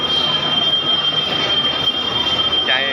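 Puri Jagannath Express, a Kolkata-to-Puri train, pulling into Puri station, its wheels squealing in a steady high-pitched screech over the continuous rumble of the moving coaches, loud and close throughout.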